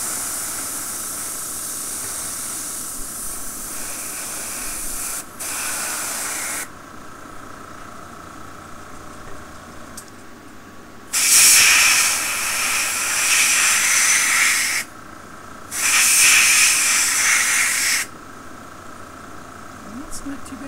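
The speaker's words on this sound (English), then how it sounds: "The best part of using the airbrush is that you can put it on as lightly or as heavily as you want for the particular application." An airbrush sprays weathering paint onto a model in soft, steady bursts of hiss: one brief spray early on, then two longer, louder blasts separated by pauses, over a low background hum.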